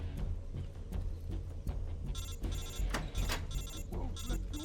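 Phone ringtone from the Metal Gear Solid Delta: Snake Eater video game, chiming in repeated bright bursts over steady game background rumble.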